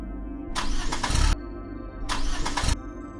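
Car engine cranking in two long bursts of about a second each, separated by a short pause, with no catch and no idle following. The car fails to start, and the cranking is close and loud.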